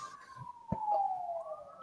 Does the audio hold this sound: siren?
yes